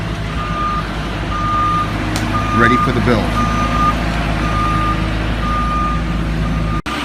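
A lumber delivery truck on a New Jersey remodeling job site gives out steady, evenly spaced reversing beeps over a loud idling engine rumble, with someone talking briefly partway through.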